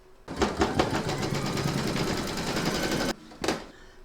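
A close embroidery sewing machine stitching a Santa applique runs in one steady, rapid burst for about three seconds, then gives a short second burst after a brief pause.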